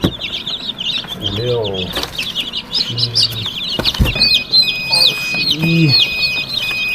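Newly hatched chicks peep constantly in high, rapid chirps close by, while a person counts aloud over them.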